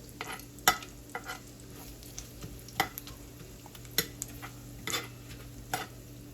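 Garlic frying in a pan while cubed steak is being cooked, a low steady sizzle with scattered sharp clicks and scrapes of a utensil stirring and moving the pieces, close and moderately quiet, no talking.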